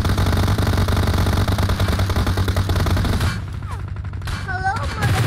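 Rapid, dense bursts of automatic gunfire in PUBG Mobile crackle loudly for about three seconds, then give way to quieter game effects and short electronic chirps.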